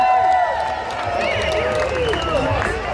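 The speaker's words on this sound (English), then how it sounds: "Give yourself a round of applause." An outdoor festival crowd at Scone Palace in Perth applauds and cheers a Skids set, sustained clapping and whoops from a large audience spread across the whole stretch, with a voice speaking over it.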